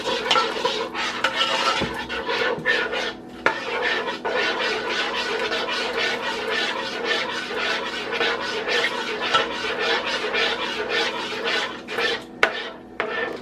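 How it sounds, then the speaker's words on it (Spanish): A utensil scrapes and stirs steadily through cream sauce with turkey in a pan. Metallic clinks and scratches continue throughout, with a faint sizzle underneath. "Y vamos a seguir revolviendo."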